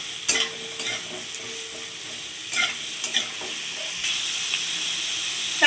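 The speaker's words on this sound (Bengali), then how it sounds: "পেঁয়াজটাও ভাজা ভাজা হয়ে গেছে" Onion and diced potatoes fry with whole cumin seeds in a pan, a steady close sizzle broken by several sharp stirring scrapes and clatters, with no voices.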